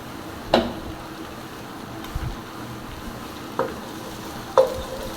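Sliced onions frying in a pan until browned like birista, a soft steady sizzle broken by a few sharp scrapes and clinks of stirring.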